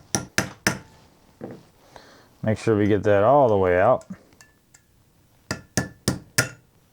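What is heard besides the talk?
hammer and punch knocking out Iver Johnson revolver hammer pin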